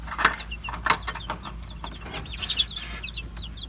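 Chickens in an outdoor brooder cluck and chirp in short bursts, with a few louder calls and some light rustling between them. The birds are close and fairly quiet.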